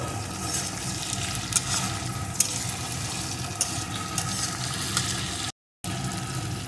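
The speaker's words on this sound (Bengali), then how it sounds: "দুটো কাঁচা লঙ্কা কুচি এখনও আমি ভেজে নেব" Chopped green chilies and tomato fry in a pan with a steady, even sizzle and occasional stirring, heard alone with a brief dropout near the end.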